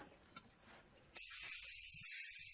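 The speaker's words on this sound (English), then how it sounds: "give it another spray" A steady, loud hiss of an aerosol can of quilt basting adhesive spraying, lasting over a second after a quieter stretch of faint room noise.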